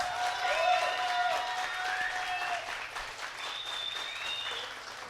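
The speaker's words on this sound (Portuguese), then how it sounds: "eu quero que vocês recebam com muitos aplausos as primeiras entrevistadas da noite, Vivian Rodrigues Lima e Nadab Pitts" Applause from a talk show audience welcoming interview guests onto the stage, a moderate wash of clapping with some tonal sounds over it, continuing steadily.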